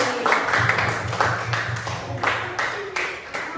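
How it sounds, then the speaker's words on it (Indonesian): A primary-school class claps for two students during a science microteaching lesson, a short burst of scattered hand claps at moderate distance with faint voices mixed in. "Tepuk tangan untuk Ridho dan Fikri."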